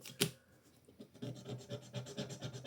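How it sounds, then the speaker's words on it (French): Repeated scraping at a small scratch-off sticker on a budget card, a dry rasping rub in short close strokes after one sharp initial tap, quiet and alone with no talk. "Oh, elle est dure à gratter ma pastille."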